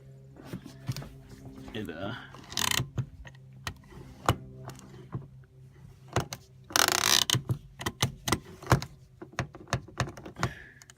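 Ratcheting clicks from a newly hooked-up car e-brake come as short bursts of mechanical clatter with scattered clicks between, mixed with handling noise and some talk nearby.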